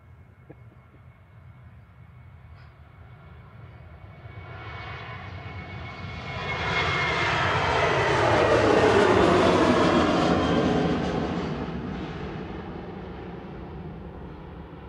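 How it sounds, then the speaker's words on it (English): A Ryanair Boeing 737-800 departs Manchester Airport's runway 23 left, its jet engines swelling from a distant rumble to a loud, broad roar and then slowly fading as it climbs away, with no voices over it. "Coming up now, departing on 23 left, is Ryanair back to Belfast with flight 193, 737-800 GRUKF."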